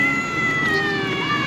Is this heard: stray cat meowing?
yes